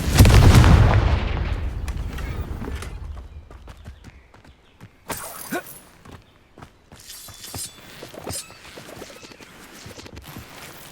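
Confringo spell explosion in the game Hogwarts Legacy, a loud boom and crackling burst at the start that fades, followed by scattered sharp impacts and debris clatter.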